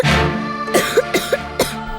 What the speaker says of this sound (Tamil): ஏன் இப்படி இருமிக்கிட்டு இருக்க